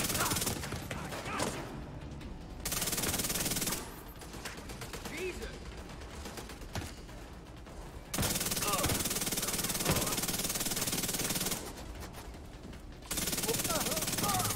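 Bursts of SMG fire in The Division 2, loud and sustained over several seconds at a time, separated by short lulls, with game sounds and players talking over the action.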